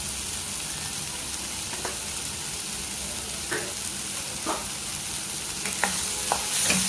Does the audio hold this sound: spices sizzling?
yes